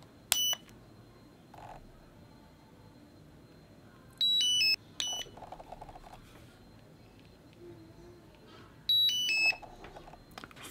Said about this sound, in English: It beeps. It blinks. It beeps again.